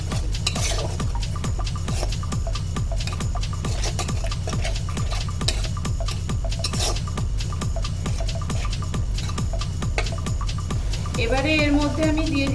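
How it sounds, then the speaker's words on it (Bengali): Okra masala stirred in a pan as a dhaba-style bhindi gravy cooks, a steady scraping and rubbing of the spoon with a constant low hum underneath throughout. "এদিকে একবার নেড়ে নেব।"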